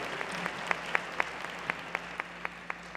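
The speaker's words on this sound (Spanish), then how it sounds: "Un aplauso para el doctor David Kontsevich." Sparse clapping at a Ciudad de las Ideas conference hall in honor of a guest doctor: sharp, distinct claps in a steady, even beat, fairly quiet, with a low background hum.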